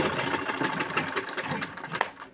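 A sewing machine with a loose reverse handle runs steadily, making a fast, rhythmic mechanical whir close by, alone and without talk.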